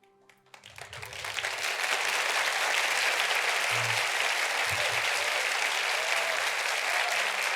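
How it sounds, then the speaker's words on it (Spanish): Congregation at a Christian church service breaks into sustained applause, starting with a few scattered claps and swelling within a second into steady, dense clapping from a large crowd that holds loud to the end. "Pero no solamente levantando las manos alabamos, sino aplaudimos."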